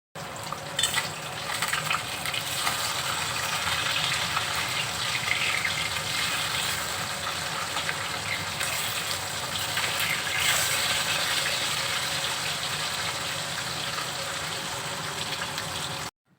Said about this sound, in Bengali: মাছগুলোকে এক এক করে ভালোভাবে লাল লাল করে ভেজে নিই